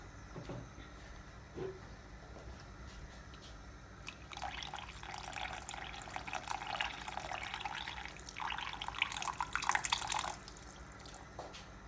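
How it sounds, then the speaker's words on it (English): Water streams steadily into a simmering chicken curry pot for several seconds, soft and close, after a couple of faint drips and clinks. "I'm going to add a bit more water in there"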